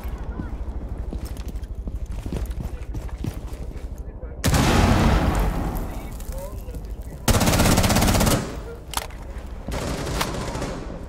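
Rapid machine gun fire rattles through a shooter video game, with bursts of dense, clattering shots and loud booming explosions punctuating the stretch, fairly close and continuous.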